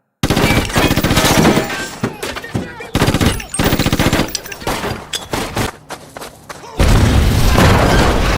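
Loud, rapid bursts of automatic gunfire with booming shots, near and relentless, pausing briefly before another heavy volley.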